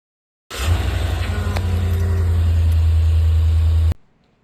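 A car engine idles in the Roblox game Brookhaven RP, a steady, loud, low rumble that starts abruptly, holds evenly for about three and a half seconds, then cuts off sharply.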